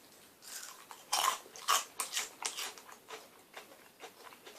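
Someone crunches a crisp octopus-flavoured Japanese snack, a series of sharp close bites followed by softer rhythmic chewing crackles, alone without speech.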